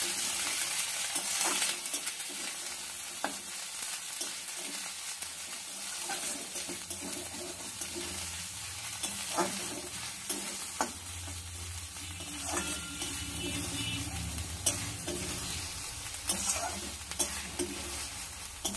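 Bottle gourd leaf paste is stirred and fried in a pan, with a soft continuous sizzle and faint scraping strokes of a spoon recurring at irregular intervals, quiet throughout.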